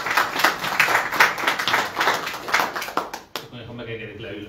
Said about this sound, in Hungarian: egy tapsot kérek nekik a szervezésért.